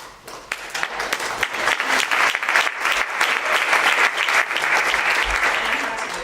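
An audience at a children's charity and Key Club event applauds a newly introduced moderator, a dense and sustained burst of clapping that swells and holds steady throughout, with no speech over it.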